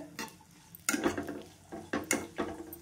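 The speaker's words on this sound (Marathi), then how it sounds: "तेलामध्ये छान फ्राय करून घ्यायचं।" Ambadi (red sorrel) flower buds tossed in a spoonful of hot oil over a high flame, with close clattering and scraping of a spoon against the pan in several sharp bursts over a soft sizzle.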